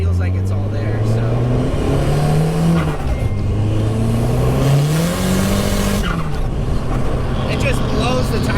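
A Nissan S14 engine revs hard and climbs through the gears with rising and falling pitch, loud and close, tires breaking loose and squealing in second gear, a voice talking over the roar.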